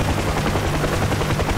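The engine and rotor of a UH-1 Huey helicopter in the DCS flight simulator make a loud, steady thumping drone with a fast, even rotor chop under a constant turbine rumble. No one speaks.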